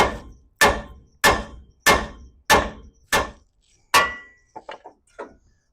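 A hammer strikes the lower ball joint section on a 2005 Ford F150 suspension: six loud, evenly spaced metallic bangs about every two-thirds of a second, then a few quicker, lighter taps at the close.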